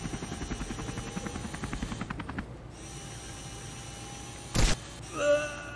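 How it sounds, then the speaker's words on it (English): A mini helicopter in the Henry Stickmin Collection game whirs with a rapid rotor chop for about two seconds, then fades, followed by a brief sharp burst and a short rising electronic tone. "Mini helicopter."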